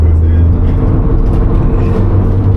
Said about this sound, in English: that's the first time I've seen someone actually rag a car like that